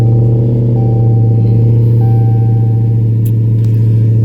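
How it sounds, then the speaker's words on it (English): A Dodge Hellcat engine on a cold start roars loudly and steadily close by, a deep, dense idle rumble with a constant low drone and slight fluctuation, filling the whole span without talk. "Gotta love that cold start."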